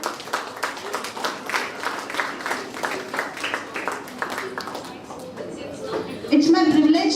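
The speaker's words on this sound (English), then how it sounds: "Welcome you, sir, with a huge round of applause." Applause from a crowd at a student startup pitch event, steady clapping for several seconds, then a voice speaks over it as it fades.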